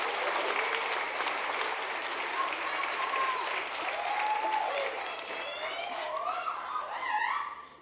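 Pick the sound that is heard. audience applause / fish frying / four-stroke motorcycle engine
audience applause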